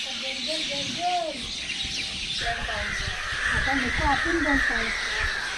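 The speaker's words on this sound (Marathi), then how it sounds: "त्यामध्ये पक्ष्यांचा आवाज बघा किती गोड आहे ना" Several birds call outdoors in the evening in Konkan, with harsh caws and chirps repeating at moderate distance over a low breezy background.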